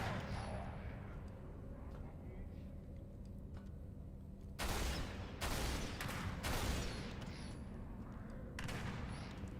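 Gunfire in the video game Operation: Meteorite, a low rumbling battle bed broken by several loud sustained bursts of rapid shots in the second half.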